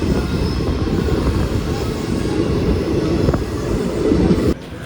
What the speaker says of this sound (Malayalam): നമ്മുടെ വണ്ടി എടുക്കുകയും ചെയ്തു